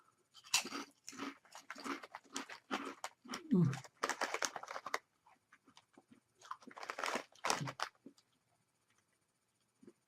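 Baked Quest protein chips crunched and chewed close to the mic in bursts of brittle crackling, with quieter pauses between bites.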